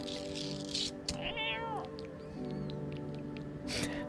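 A cat meows in a spooky game, one clear drawn-out meow in the middle over a constant layer of game music and ambience.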